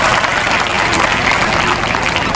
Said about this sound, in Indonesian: Tepuk tangan buat panitia dulu